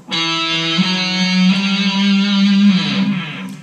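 A bright electric guitar sounds a short three-note line, each note ringing into the next and sustaining loudly, no voices.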